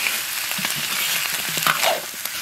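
Pork ribs stir-fry in a wok to cook off their moisture, sizzling in a steady loud hiss with scraping stirs of the spatula up close.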